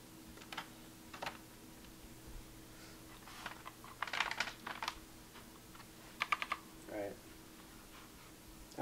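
Keys clatter on a SteelSeries 6Gv2 mechanical keyboard with Cherry MX Black switches, irregular bursts of clicky strokes at close range, fairly quiet against a low steady hum.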